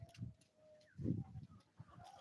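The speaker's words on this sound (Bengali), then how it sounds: "এগুলো হচ্ছে আমার কোয়েল পাখি" Soft, low cooing quail calls in two short bursts with a brief warbling note between, close by in a quiet setting on a poultry farm.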